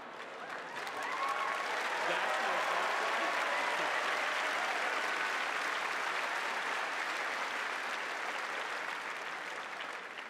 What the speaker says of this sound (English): always go to the Kardashians for an applause